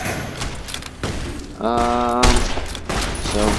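Gunfire in Fallout: New Vegas, a few loud close shots and thuds over a steady game background, with a brief tonal ringing in between.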